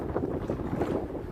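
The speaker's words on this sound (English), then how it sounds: "Now we're getting the wind. You're going to hear the wind." Gusty wind buffets an outdoor microphone on a Chicago street, a loud low rumbling roar that swells and dips continuously with no other sounds.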